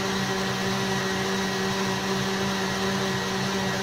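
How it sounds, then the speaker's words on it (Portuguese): Electric stand mixer beating sponge cake batter (pão de ló): a loud, steady motor whir with a constant droning pitch, close and continuous with no pauses or talk. "Aí eu vou diminuir a velocidade da minha batedeira"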